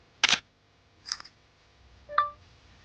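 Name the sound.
phone camera taking a picture of a carburetor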